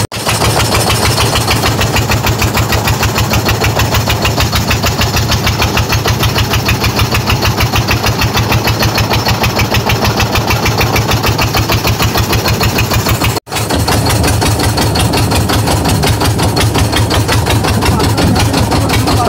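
An open river boat's engine running on the Amazon, a loud, steady, rapid throbbing drone close by, unbroken except for one brief dropout near the end.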